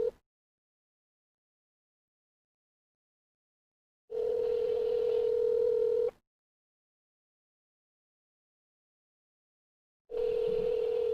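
Repeated ringback tone on a telephone line during a prank call, steady two-second bursts separated by about four seconds of silence, heard clearly with no talking.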